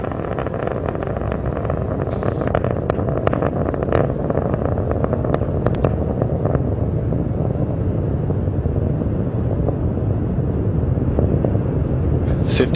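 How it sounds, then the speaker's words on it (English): Space Shuttle Atlantis main engines roar during launch and climb, a continuous heavy low rumble with crackling bursts and wind buffeting, heard from a distance and sustained throughout. "preparing to begin throttle down of the main engines as the vehicle prepares to pass through the area of maximum dynamic pressure"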